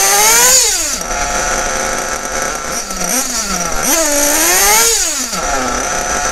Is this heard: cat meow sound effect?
no